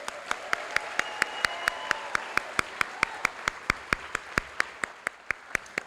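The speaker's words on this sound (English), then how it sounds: "Let's give them a big round of applause." At a Phoenix House graduation ceremony, a single pair of hands claps in a strong, regular rhythm, close and distinct, about four claps a second over a soft background of scattered applause.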